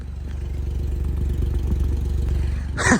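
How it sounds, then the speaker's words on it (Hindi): A three-cylinder car exhaust idles with a steady, deep, bassy thrumming burble, close and constant, ending in a brief rustle. "और आप इसका एग्जॉस्ट आइडलिंग में सुनो जरा"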